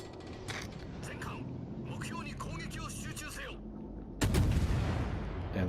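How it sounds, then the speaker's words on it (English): Naval gunfire from warship guns in the World of Warships video game, a heavy booming blast with rumbling tail near the end, following stretches of clattering battle noise and someone talking over game sounds. "Now I'm going to get a few shots off here."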